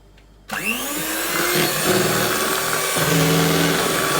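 Electric mixer whirring as it blends a homemade ube ice cream base, starting abruptly after a quiet moment, then running at a steady loud hum with a slight change in pitch toward the end.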